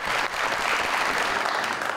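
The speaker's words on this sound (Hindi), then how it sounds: "आइए, बहुत सारी तालियों में तशरीफ रखेंगे।" Dense, steady applause from a television studio audience on a Pakistani talk show, loud and continuous throughout with no pauses.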